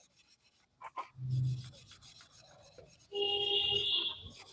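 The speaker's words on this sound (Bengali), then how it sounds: "একটু ভিম লিকুইড দিয়ে মেজে নিলাম, একটু ঘষা দিতে সব উঠে যাবে" A burnt pan is scrubbed with Vim dishwashing liquid, giving close, rough scraping and rubbing strokes in uneven bursts, some longer and harsher than others, with short quiet gaps between them.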